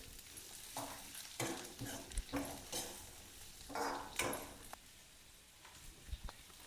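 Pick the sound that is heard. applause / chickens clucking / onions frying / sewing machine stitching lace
onions frying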